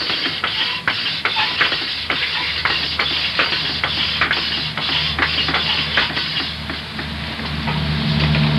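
A hand-powered rifling machine cuts grooves inside a handcrafted gun barrel, giving a steady run of rhythmic scraping clicks and ratcheting over a constant mechanical hiss, close and moderately loud.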